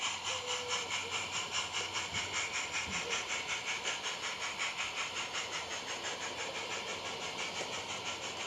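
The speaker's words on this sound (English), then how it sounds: "With the departure of the up passenger, the sand train can continue its journey." Light railway passenger train pulling out of Beeston Castle station on the Peckforton Light Railway, with a steady rhythmic chuffing hiss and mechanical drone that stays fairly even and moderately close throughout, with no talk.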